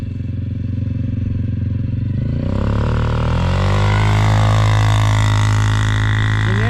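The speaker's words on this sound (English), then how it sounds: "I'm going to have her stop from a dead stop, and she's just going to nail it and come past" A Can-Am DS 250 ATV with a clutch kit idles, then accelerates hard from a dead stop, engine note rising steeply in pitch and growing loud and close as it revs up and passes.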